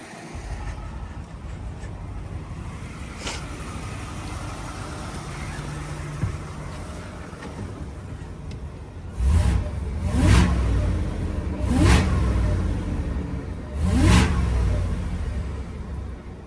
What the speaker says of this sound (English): Of course, you can hear the Whipple, but I'll say the tone of the truck itself is pretty damn quiet.